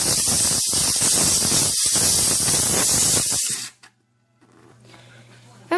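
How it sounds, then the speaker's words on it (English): A loud, steady hiss of steam blasting out of a McCulloch MC1385 canister steam cleaner for several seconds, then cutting off abruptly to near silence with a faint rumble after. "I can show you the steam power that's coming from this"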